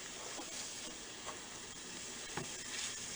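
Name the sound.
Monte Cristo sandwich with glazed onions browning on a grill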